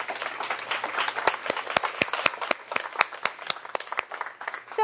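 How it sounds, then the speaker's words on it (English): Scattered hand claps from an audience at a teaching webinar, distinct sharp claps standing out over a murmuring background, moderately close and fairly light, lasting several seconds. "Let's give her a nice clap."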